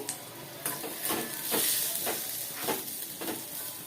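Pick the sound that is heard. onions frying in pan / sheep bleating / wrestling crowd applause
onions frying in pan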